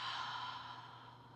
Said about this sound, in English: Cleansing breath, open the mouth, exhale.